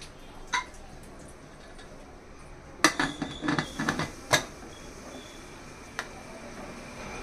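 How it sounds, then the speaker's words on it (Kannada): A quiet room, then a brief cluster of metallic clanks and knocks as a cooker lid is fitted and locked, followed by one last faint clink. "ಈಗ ಕುಕ್ಕರ್ ಮುಚ್ಚಳ ಮುಚ್ಚಿಟ್ಟಿದ್ದೀನಿ"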